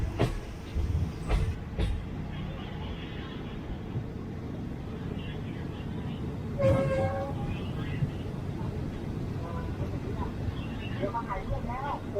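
A low, continuous rumble of a moving train at night on Thailand's southern double-track line near Pranburi station, with brief sharper clanks and a passing tonal squeal midway.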